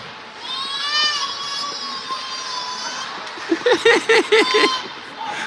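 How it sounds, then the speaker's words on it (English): A baby in the stands at a U13 youth hockey game lets out a long sustained squeal, then a string of short rhythmic whooping cries, close and clear over soft arena background noise. "Comox baby is cheering."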